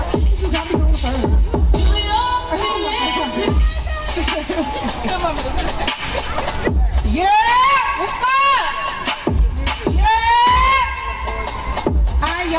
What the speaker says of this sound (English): Let's clap it up for Artis Amaj, everybody.